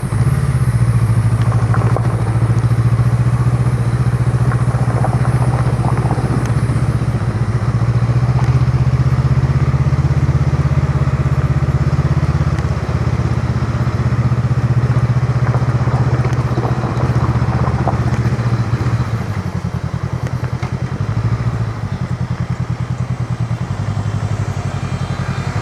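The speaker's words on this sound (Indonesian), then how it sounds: "Pakai motor ini juga." Motorcycle engine running steadily on a café ride trip near Bukit Panorama, Tamansari, Bogor: a continuous loud low drone with a constant thrum and faint clatter, no talk, holding for the whole stretch.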